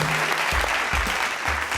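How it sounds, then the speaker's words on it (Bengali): A television quiz show's studio audience claps loudly and continuously for a short burst, with low thumps beneath the dense applause. "ওনার জন্য একটা জোরে হাততালি হোক"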